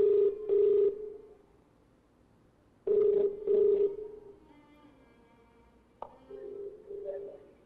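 Telephone ringback tone on a call that goes unanswered, two clear double-pulse rings a few seconds apart, followed by fainter tones and some background noise.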